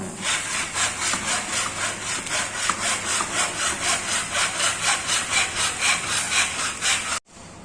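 A handsaw cuts through baseboard molding at a 45-degree angle in a steady, even rhythm of about two dozen close, loud strokes, ending abruptly as the piece is cut through.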